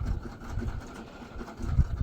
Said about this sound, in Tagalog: Kinsa ka to na kabatig tingog sa motor anak